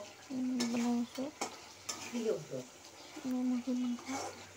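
Chicken curry fries and gets stirred in a pan, with soft scraping and sizzling heard close by under a voice that talks through most of the moment.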